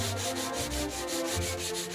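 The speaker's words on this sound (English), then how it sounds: "A simple sanding over the surface and a little bit of teak oil brings it back to life." Hardwood furniture is sanded by hand in rhythmic back-and-forth strokes, a close, steady scratchy rubbing repeating about every fifth of a second, with no voices.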